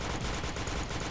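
Rapid gunfire rattles in a dense, continuous burst during a clan war match in an online shooter game, loud and unbroken with no voices over it.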